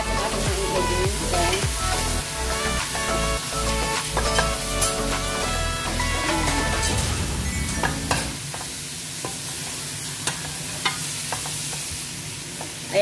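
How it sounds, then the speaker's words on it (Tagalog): Chicken curry ingredients being stirred and mixed in a sizzling pan, steady frying hiss with scraping spoon strokes, under background music that drops away partway, then quieter sizzling with occasional clinks. "At mix po natin ating mga ingredients"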